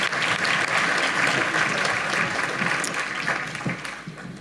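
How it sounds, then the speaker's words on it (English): An audience at a public economic development forum applauds the mayors, dense sustained clapping that holds steady and then gradually thins out toward the close. "I just want to give one more round of applause to the mayors."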